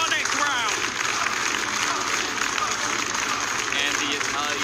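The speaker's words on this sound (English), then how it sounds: "And the Italian crowd goes wild here for Justin" An Italian crowd at a Pokémon regional tournament cheering and applauding, a dense wash of clapping and shouts with a commentator talking over it.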